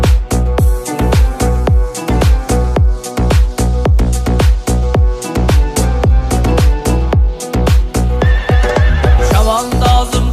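A horse whinnies in rising, drawn-out cries near the end, set against loud, steady rhythmic music with dense percussive beats throughout.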